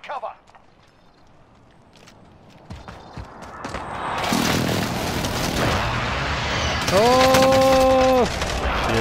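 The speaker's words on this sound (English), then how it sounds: "Enemy precision airstrike. Take cover." A precision airstrike in Call of Duty Warzone: quiet at first, then a rising roar of rapid explosive impacts builds into a loud, sustained barrage, with players' voices briefly heard early on.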